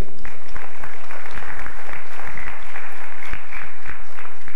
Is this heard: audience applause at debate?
yes